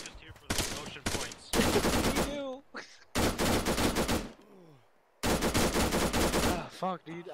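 Gunfire during a platoon's amphibious landing training exercise: long, loud rattling bursts of rapid shots come close by, separated by short pauses, with shouted voices breaking in between the volleys.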